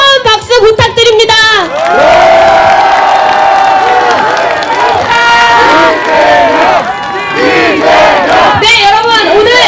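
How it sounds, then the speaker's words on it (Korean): Large political rally crowd in Gwangju roars with sustained cheering, shouting and clapping, loud and close, continuing without letup after a few opening claps. "여러분, 함께 한다는 마음으로 다시 한번 뜨거운 박수 부탁드립니다."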